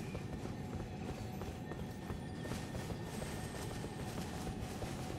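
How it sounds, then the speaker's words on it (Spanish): Horse hooves gallop in the video game Elden Ring, a rapid rhythmic clatter running steadily under a continuous wash of game ambience. "Puedes usar el caballo aquí."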